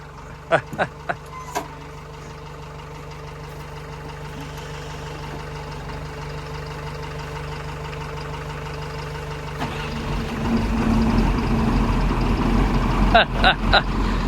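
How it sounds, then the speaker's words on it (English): An old truck's 5.9 Cummins diesel, cold-started in winter at a logging site, settles into a steady low idle, then rises to a louder rumble, with voices heard nearby. "I'll fire her up. Another cold start on the old girl."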